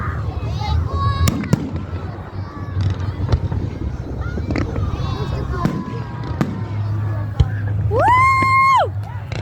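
Fireworks burst in a rapid string of sharp bangs and crackles during an outdoor display, with a whistling rocket rising near the end, while a crowd talks and cheers throughout.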